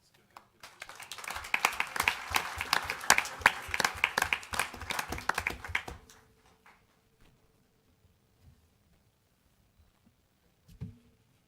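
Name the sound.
applause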